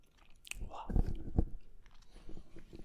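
Someone bites into and chews a freshly baked homemade cookie up close, making a few crisp crunches followed by softer chewing, with faint background sounds.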